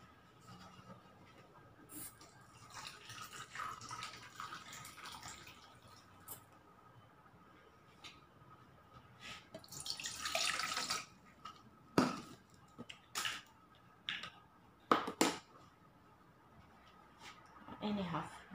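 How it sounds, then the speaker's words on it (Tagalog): Water trickles and splashes into a pot for Maja jelly in a home kitchen, with faint clinks of dishes and utensils, quiet and intermittent beneath someone talking throughout. "maglagay tayo ng tubig"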